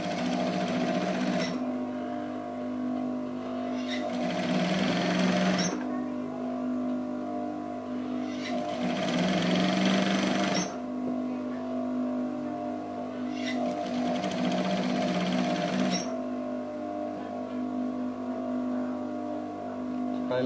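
Sewing machine stitching a kutu baru kebaya, running in bursts of steady mechanical whirring that start and stop several times, loud and close with no talking.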